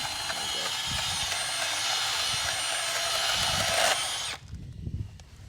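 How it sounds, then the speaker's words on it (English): A cordless Milwaukee M12 bandsaw runs and cuts for about four seconds with a loud, steady whining hum close by, then stops abruptly, leaving quieter handling knocks. "So that's actually the new M12 bandsaw."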